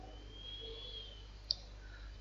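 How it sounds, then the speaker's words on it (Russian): A single computer mouse click snaps out once, short and close, over a faint, steady background hum in an otherwise quiet room. "Кликаю вывод, да?"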